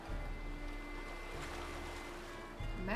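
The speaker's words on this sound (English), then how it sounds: "Oh my god, they're still so loud." Ocean waves in the video game Nancy Drew: Sea of Darkness roll and wash as a loud, steady surf roar that fills the whole stretch without a break.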